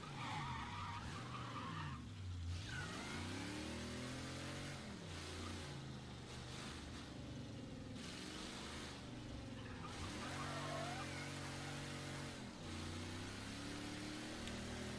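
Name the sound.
car driving in the video game Mafia III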